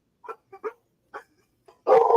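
A dog barks in the background indoors, several short separate barks followed by a louder, longer burst of barking near the end, with no speech over it.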